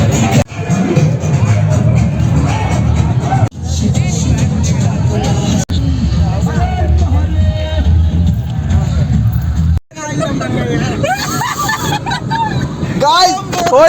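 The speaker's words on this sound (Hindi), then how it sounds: "और जो कि ज़बरदस्त भीड़ है यहाँ पर" A large crowd at a Holi festival: dense, loud babble of many voices mixed with vehicle noise fills the scene continuously, with a person speaking close by over it.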